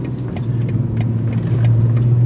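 The engine of a 2022 BMW 240i with an 8-speed automatic hums steadily from inside the cabin, and its tone steps up smoothly near the end as the transmission downshifts.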